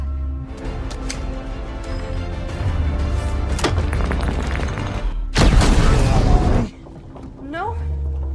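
A grenade blast in an action film scene with Russian mafia fighters goes off as a loud, close, noisy burst lasting about a second, following booming thumps, all under narration.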